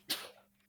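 A single short sneeze, sharp and breathy, trailing off quickly, fairly quiet and alone.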